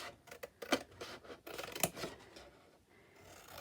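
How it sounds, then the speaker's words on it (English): Scissors snipping along score lines on card while making a Christmas picnic basket, several sharp close cuts in quick bursts with rustling paper between them. "I haven't got my decent scissors, so these will just have to do for this one."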